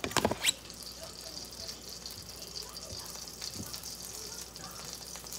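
Butter sizzles softly and steadily in a pan, a quiet continuous hiss, after a few brief clinks at the start.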